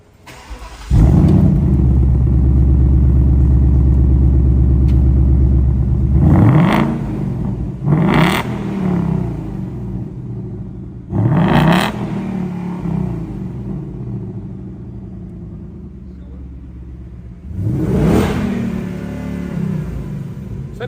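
A Ford Mustang starts with a deep rumbling idle, then gives several sharp revs and bursts of acceleration separated by short pauses, loud and close with no talking.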